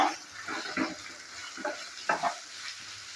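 Chopped garlic, grated ginger and onion fry in a pan for aloo palak sabzi. Close, intermittent stirring scrapes rise over a soft sizzle.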